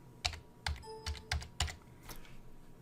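Keys tapped on a computer keyboard while searching a WordPress site's page source, a handful of close, crisp clicks in uneven bursts with brief pauses between, no talking.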